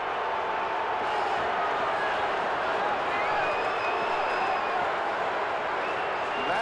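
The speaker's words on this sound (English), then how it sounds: "Listen to the crowd." A football stadium crowd at a 1979 NFL game roars in a steady, dense wash of cheering and noise that carries on without a break, heard through a broadcast.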